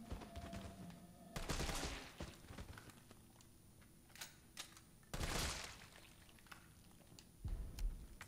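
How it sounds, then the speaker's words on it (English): Upgraded assault rifle in Resident Evil 3 Remake firing in two loud bursts of rapid automatic shots, separated by quieter stretches of scattered impacts and clatter. "Let's test out that upgraded assault rifle for now"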